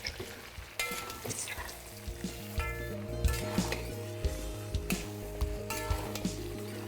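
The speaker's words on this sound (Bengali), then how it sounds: "আর মাটনটা দেওয়ার পরে এটাকে আপনাদের ভালো করে মিশিয়ে নিতে হবে।" Mutton frying with browned onions in a pan for curry, a steady sizzle broken by repeated scraping and clinking as the meat is stirred, with an electrical hum underneath.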